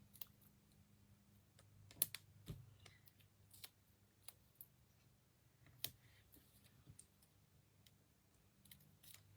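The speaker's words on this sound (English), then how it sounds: "I'll cut another one in half for the antlers" Scissors snip through paper to cut antlers for handmade Christmas tags, giving a few sharp, quiet cuts at irregular intervals over a faint, steady background hum.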